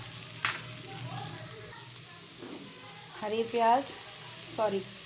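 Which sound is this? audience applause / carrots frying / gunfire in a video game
carrots frying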